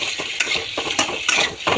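Chili powder fries in hot oil for an egg curry while a spoon scrapes and stirs the pan in quick, rhythmic strokes, close and fairly loud, with a light sizzle between the scrapes.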